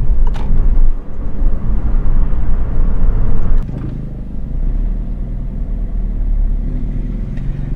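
A Peugeot 208 car engine idles steadily while warming up, a low, constant rumble, briefly dipping and then continuing, with no one talking.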